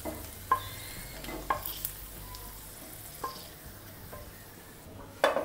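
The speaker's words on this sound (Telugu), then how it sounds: "దానిలో కిస్మిస్ వేసి వేయించుకోవాలి" Cashews and raisins fry in ghee with a soft, quiet sizzle, broken by a few sharp clicks and scrapes of a spoon stirring the pan.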